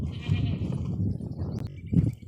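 Young goats bleat at a rural home, several overlapping calls close by in two bursts, a longer one first and a shorter one near the end, with no talking.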